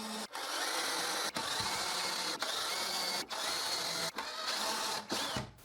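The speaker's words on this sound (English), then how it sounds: "I drill the guide holes in the marks, making sure I don't drill to the other side of the apron" Power drill boring guide holes into a wooden apron for a cheap Moxon vise, a steady loud whine running in six bursts separated by brief pauses.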